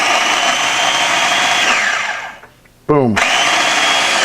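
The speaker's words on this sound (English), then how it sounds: "we're going to pulsate this thing until it's nice and finely ground" A food processor pulses whole wheat bread into breadcrumbs, a loud steady whirring motor that winds down to near silence before a single spoken word, then roars back on at full strength.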